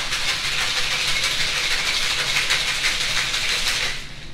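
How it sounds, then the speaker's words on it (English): A Sidecar cocktail of lemon juice and simple syrup shaken in a covered shaker, a steady dense rattle of ice running loud and continuous for about four seconds before stopping abruptly. "I'm gonna shake this."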